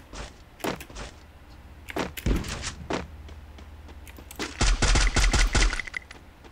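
Bursts of gunfire from a new weapon in the Free Fire battle royale game, a few short volleys with a heavier rapid burst near the end, loud and close with no talking.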